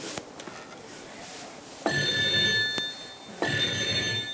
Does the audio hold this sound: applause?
no